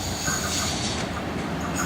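A Belair line train crosses the Goodwood Junction rail underpass in Adelaide, giving a steady, close, loud rumble of wheels and carriages that runs unbroken throughout, with no voices.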